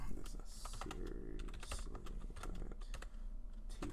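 Gloved fingers type quickly on a computer keyboard, producing a dense run of soft clicks with a voice talking intermittently over them.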